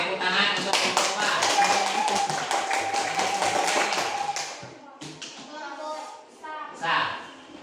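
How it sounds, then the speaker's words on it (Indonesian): Classroom of students clapping for a student group, a dense burst of hand claps for about five seconds that thins into scattered claps with children's voices chattering nearby. "Tepuk tangan untuk kelompok apa?"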